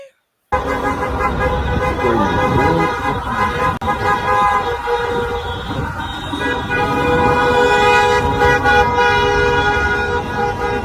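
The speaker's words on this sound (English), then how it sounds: "Look, they out there honking it." Car horns honk repeatedly along a street protest, loud sustained toots layered over steady traffic noise, with voices chattering underneath throughout.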